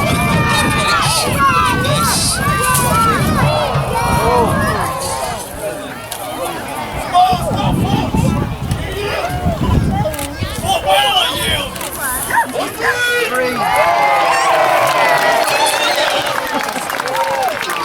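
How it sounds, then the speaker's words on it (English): Large outdoor crowd at a knights' tournament at Old Sarum Castle, a steady babble of many voices with scattered cheers and movement, loud and close throughout. "There is something quite funny about a crowd in 2023 watching knights, and a big crowd at that."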